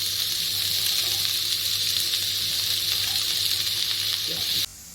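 Leftover vegetables sizzling and frying in a pan for fried rice, a steady close hiss that stays even throughout before cutting off abruptly near the end.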